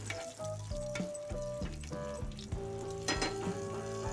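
Beetroot sabzi with a few curry leaves sizzles in a pan as it is stirred, a steady close frying hiss broken by repeated clinks and scrapes of the spoon against the metal.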